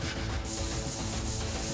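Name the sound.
sanding a clay bed board with sandpaper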